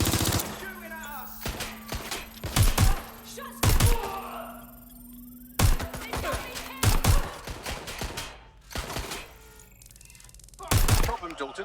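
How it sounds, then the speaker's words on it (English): Bursts of automatic gunfire and sharp single shots in the video game Watch Dogs Legion, coming in irregular clusters with thudding impacts between them and a voice talking briefly. "Shooting at us."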